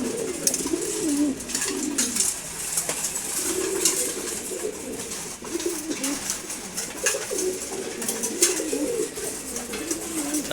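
A pair of ghiya chulli and chila pigeons coo almost continuously in overlapping, rolling phrases while feeding, with sharp pecking clicks and scattered knocks throughout the close, busy loft.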